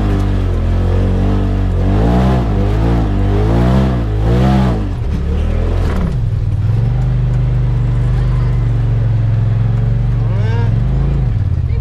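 A Polaris Turbo RZR engine revs and pulls hard climbing a steep hill at an off-road ATV park, loud and close, with rising and falling revs early and then a long steady high drone as it holds the climb.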